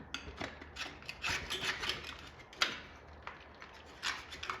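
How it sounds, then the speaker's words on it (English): A metal scraper rasps rust off the engine of a Chevy dually pickup truck in short, uneven strokes, close and fairly quiet, with scratchy bursts and pauses between them. "I'm gonna grab a couple different size scrapers and go ahead and do this for a while"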